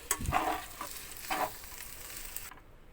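Egg fried rice with coriander stir-fried over a high flame makes a soft sizzle with a few scraping stirs of the spatula, fairly quiet and close, ending abruptly.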